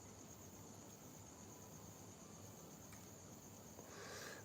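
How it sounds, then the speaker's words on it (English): Steady, high-pitched cricket chirping fills the background, continuous and fairly faint, with no other sounds. "these are tiny little crickets too"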